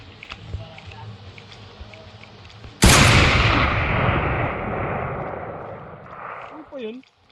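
One sudden, loud sniper shot rings out in a Minecraft zombie mod game, its blast decaying over several seconds into a rumbling echo, with a soft voice talking before it.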